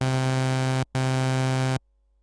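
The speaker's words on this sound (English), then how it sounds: "set the first oscillator to -1 octave for a low tone so it sounds like this" A synthesizer patch with its first oscillator dropped one octave gives a buzzy, harmonically rich low tone, played twice as sustained notes with a brief gap between them, then stopping.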